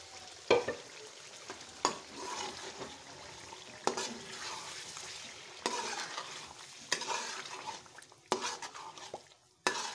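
Masala paste fries in hot oil for achari chicken while a spoon scrapes and stirs around the pan, giving a constant sizzle broken by sharp metallic clinks and scrapes.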